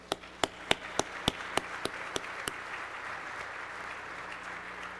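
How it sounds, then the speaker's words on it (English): At a pharmacists' society event, a steady rhythm of about ten sharp, evenly spaced claps rings out over a diffuse crowd applause bed, the beats fading after a few seconds while the general clapping continues, moderately distant. "Let's give all these folks a nice round of applause."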